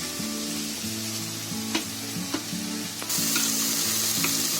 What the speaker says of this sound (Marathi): आता आपण त्याच्यामध्ये पनीर टाकते बघा